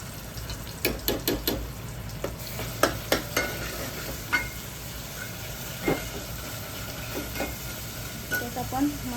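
Ground masala paste sizzling in hot oil for a mutton potato curry, loud crackling frying with repeated sharp spattering pops and stirring scrapes throughout.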